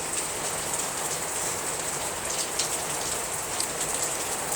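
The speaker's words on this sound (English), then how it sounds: "Starting to rain a little harder." Rain falling steadily outdoors where small pomsky dogs play, a dense even hiss of drops throughout, fairly close and moderately loud, with no talking.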